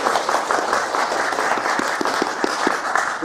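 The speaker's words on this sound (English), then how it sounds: "We're clapping for Lessing now, no?" Audience clapping during a talk on conservatism: brief, fairly loud, steady clapping from a modest crowd, with a few distinct sharper claps standing out.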